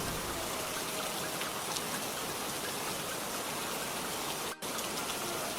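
Steady rain falls over a village with huts, a dense even hiss that holds at a constant level throughout, with no voices and only a brief dropout near the end.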